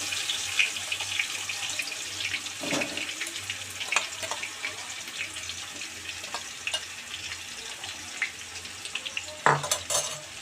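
Biryani masala sautéing in a pan, a steady close sizzle of frying spices with intermittent scraping of a spatula against the pan and a couple of sharper clanks, no talk.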